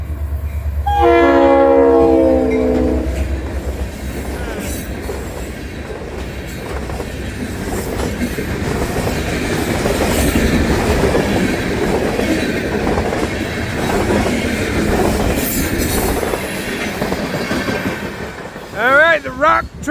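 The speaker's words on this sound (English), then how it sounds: "Yep, it's the honoring our veterans locomotive again" A rock train drawn by the honoring-our-veterans locomotive passes near St. Augustine Beach: a loud horn blast at the start, then a long steady rumble of wheels and railcars, with a brief voice near the end.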